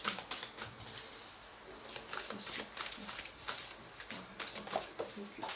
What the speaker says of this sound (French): je vais vous tirer d'autres cartes par rapport aux secrets et les récurrences